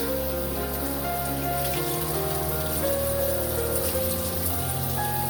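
A steady stream of running water pours over raw shrimp that has just been dressed with squeezed lemon juice, a continuous close rushing hiss with a soft tonal hum in the background.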